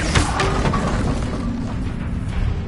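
A fiery Incendio spell blast erupts in Hogwarts Legacy, a short rumbling whoosh of flame with crackling bursts, loud and close, with no talking.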